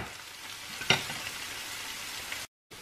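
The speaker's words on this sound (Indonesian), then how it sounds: "Kita aduk-aduk. Dan kita masukin mie-nya yang udah direbus tadi." Boiled noodles fry in a pan with a steady, close sizzle, one brief clatter of stirring near the start, then the sound cuts off abruptly.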